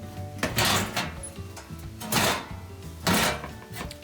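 A metal panel slid out from the bottom of a gas oven, giving three scraping, rattling pulls at regular intervals, close and fairly loud, with no talking.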